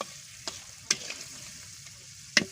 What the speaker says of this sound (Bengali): এই যে মশলা দিয়ে মাছটা ভালো করে ভেজে নিলাম